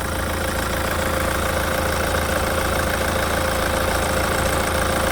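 A Hyundai Santa Fe Prime engine idles steadily with the hood open, giving an even, continuous mechanical hum and a faint whine, close and alone with no voices.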